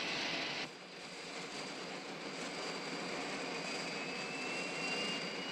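Steady broadband roar of a jet airplane passing overhead, fairly loud and continuous throughout, with a faint high whine sliding slowly downward; no one speaks.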